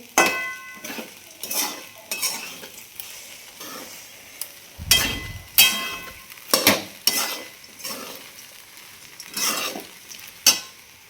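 Crackling sizzle of spices hitting hot oil as dal is tempered, coming in bursts with stirring clatter and utensil scrapes between them, close and fairly loud, no voices.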